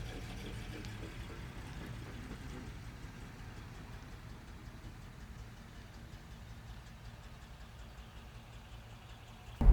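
A 1953 Bentley R-Type Continental six-cylinder engine idles very low and steady at around 500 rpm, a faint, even rumble heard from inside the car with no talk over it, ending in a brief louder knock.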